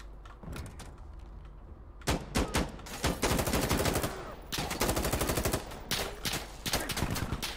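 Video game gunfire aimed at the player, sharp single shots early on, then loud rapid automatic bursts crackling close by in repeated volleys, with no talking.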